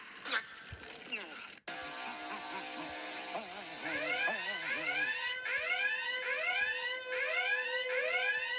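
A loud intruder alarm blares in repeating rising electronic sweeps, accompanied by a steady high-pitched tone, with brief voices near the start.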